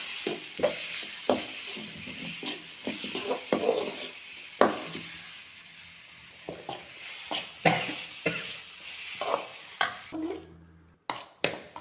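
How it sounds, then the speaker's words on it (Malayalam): Homemade lemon pickle gets stirred in a pan, a spoon scraping and knocking in repeated strokes over a soft sizzle, a few louder clanks standing out before the sound thins near the end; no speech. "നമുക്ക് നന്നായിട്ട് അച്ചാറൊന്ന് ഇളക്കി കൊടുക്കാം"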